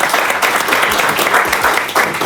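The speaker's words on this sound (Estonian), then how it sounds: "Teeme teile suure aplausi." A studio audience breaks into a short, loud burst of applause, dense continuous clapping filling the room for a couple of seconds.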